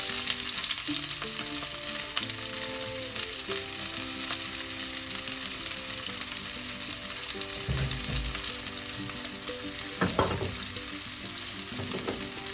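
Steady, crackling sizzle of chopped onion frying in hot oil, with occasional stirring scrapes and no voices.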